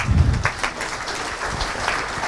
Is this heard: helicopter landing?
no